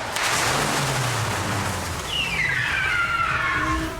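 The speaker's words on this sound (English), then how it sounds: "You got to be moving because the car's coming in really fast." A Lykan Hypersport supercar speeds in fast during stunt filming for a crash scene, its loud engine roar and rising whine sweeping past continuously with broadband road noise, no talk.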